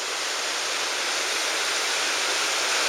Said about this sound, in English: So where the water goes cascading over there, it drops again